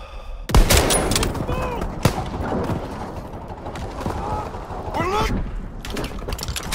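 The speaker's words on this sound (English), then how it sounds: "Give suppressing fire." Rapid World War II gunfire in Call of Duty WWII: dense overlapping bursts with sharp cracks and clattering mechanical weapon noise, loud and continuous, along with faint shouted voices.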